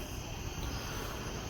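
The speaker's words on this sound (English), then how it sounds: "Hearing some crickets outside." Crickets chirp outdoors at night as a faint, steady, high-pitched trill with no other clear sounds over it.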